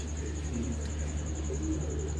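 Pigeons coo in low, soft, repeated murmurs in a pigeon loft, a steady warbling layered with other bird sounds and constant background noise, fairly close and without clear speech.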